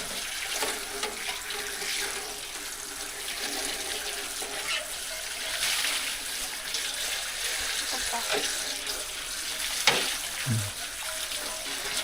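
Bowls for holding fiddlehead fern greens are washed under a running tap, with a steady rush of water, a few hollow clunks and splashes near the end, and a faint voice now and then.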